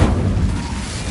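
An Incendio fire spell erupting in Hogwarts Legacy, a loud, low rumbling burst of flame with a heavy thump at the start that roars steadily for about a second.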